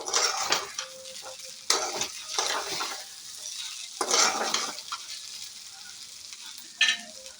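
Idli fry being stirred in a pan gives several loud, scraping strokes of a spatula against metal at irregular intervals, over a light sizzle, with no talk.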